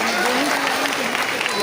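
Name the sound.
applause for students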